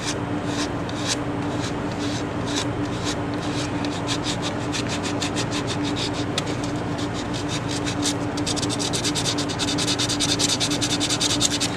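Steady rasping strokes of hand sanding on a 3D-printed plastic Infinity Gauntlet, repeating in quick rhythm and speeding up toward the end.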